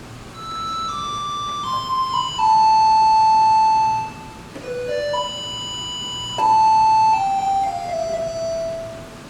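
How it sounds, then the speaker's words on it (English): Taiwanese garbage truck loudspeaker playing a classical melody, the song Man's Prayer, as clear electronic tones in a slow stepwise tune, loud and steady, repeating phrases with brief pauses between them. "People take out their garbage when they hear special music from the garbage truck."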